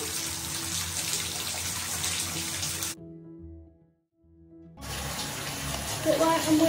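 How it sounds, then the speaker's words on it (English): A bath tap runs to fill a bathtub, a steady broadband rush of water that cuts out for about two seconds as the flow is switched, then resumes loud and close. "Turn my bath on because my face is done."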